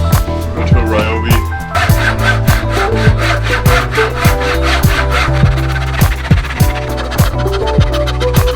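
Ryobi saw cutting wood for a Moravian workbench, with steady back-and-forth rasping strokes close up and a faint tonal hum behind them, continuing for the whole stretch.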